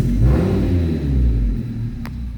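A car engine starts and idles with a loud, deep exhaust rumble escaping from a damaged rear muffler, a throaty low drone heard close up and alone.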